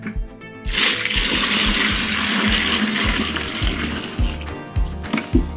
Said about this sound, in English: The water goes in there.